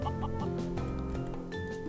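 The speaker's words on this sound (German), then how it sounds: "Was macht das Huhn in der Mine?" A chicken clucks in the video game Craft the World, a short run of close, choppy clucks over steady game music.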